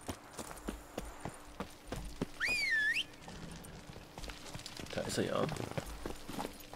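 The Witcher 3: Blood and Wine horse Roach's hooves clopping at a steady riding rhythm, with a whistle sliding up and down partway through and someone speaking briefly.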